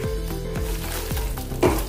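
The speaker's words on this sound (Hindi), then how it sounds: "अच्छे से हमने मिक्स कर लिया है कसूरी मेथी को भी" Roasted kasuri methi is stirred into a sizzling paneer curry in a pan, with a steady frying hiss and a few soft scraping strokes of the spoon, close and moderately loud.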